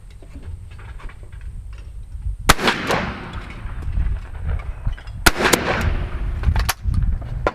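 Two sharp, loud shotgun blasts at clay targets on a 50-bird quail course, about three seconds apart, each followed by a long outdoor decay, with faint handling noise between them.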